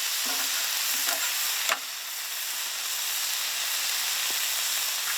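Teriyaki cooks in a hot pan or on a grill during a camping trip, with a steady, loud, close sizzle and hiss throughout, broken by a brief clatter near the start.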